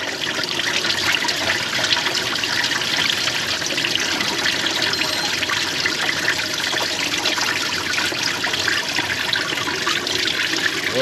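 Engine coolant gushing out of a Honda during a timing belt replacement, a loud continuous rushing, splattering flow of liquid held steady throughout, no talking.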